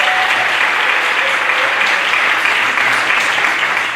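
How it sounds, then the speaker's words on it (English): A crowd at a school sports awards ceremony applauds an athlete, producing loud, dense, continuous clapping that fills the room for the whole stretch. "Let's give him a round of applause."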